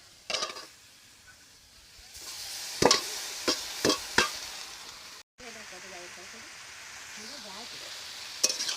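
Kulpo greens hit a hot pan and sizzle, with a steady frying hiss broken by several sharp spoon clatters against the pan as they are stirred; a voice speaks briefly.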